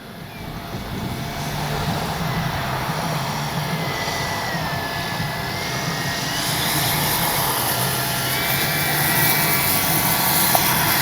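A steady engine drone of a large FlightLine F4U Corsair model airplane flying overhead, broadband and continuous, growing slightly louder toward the end with no voices.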